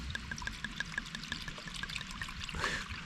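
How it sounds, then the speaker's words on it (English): White wine pouring steadily into a cup at a wild campsite in the Yorkshire Dales, a bright trickling stream with a gurgle near the end, close and fairly quiet. "Pour it in there."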